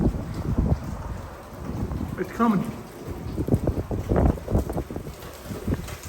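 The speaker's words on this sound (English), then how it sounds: "It's pretty windy. Not as bad as it's gonna be, but it's pretty windy." Strong gusting wind from Hurricane Milton buffets the microphone with a steady, heavy roar, while a person talks close by over it.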